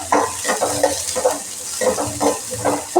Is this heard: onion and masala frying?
yes